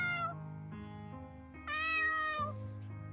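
A cat meows in a video game, a stray being fed by the player character, giving a few clear, close meows, including one long, high, wavering cry in the middle.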